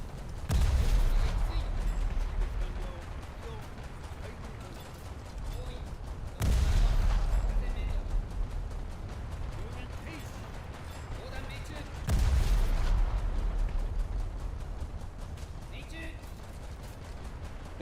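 In War Thunder, aircraft cannons fire at a single Spitfire, three heavy booming bursts roughly six seconds apart, each followed by rumbling sustained gunfire, with a voice talking over the noise.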